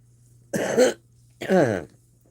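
Two harsh, throaty coughs a second apart, close and fairly loud, over a low steady hum.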